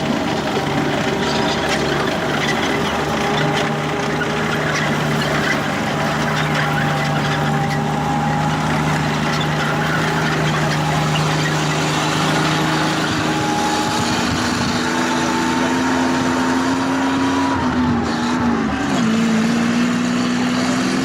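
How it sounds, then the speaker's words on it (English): The Maybach HL210 engine of Tiger 131, a WWII Tiger I tank, drones loudly as the tank drives around. A steady, rumbling note shifts in pitch near the end, with no speech. "Now I'll let you listen to the engine note as it drives around."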